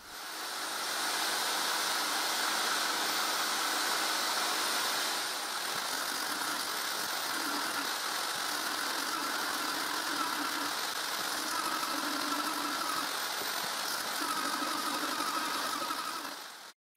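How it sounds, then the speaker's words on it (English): A disc sander runs with a continuous motor hum and rough sanding noise as it smooths the surfaces of wooden posts, staying steady and close for the whole stretch. "I also use the disc sander to sand the surface of all 15 posts."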